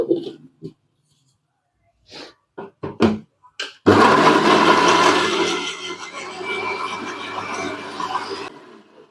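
Mixer grinder grinding four cut tomatoes: a few handling knocks, then a loud, steady whirring that runs for about four and a half seconds before stopping.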